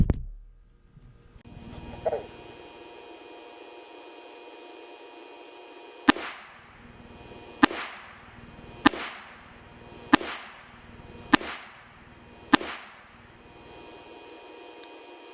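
A Smith & Wesson Bodyguard 380 micro compact pistol firing Blazer steel ammunition, six loud sharp gunshots spaced about a second apart after a quiet stretch of handling and clicks, heard outdoors with ringing tails.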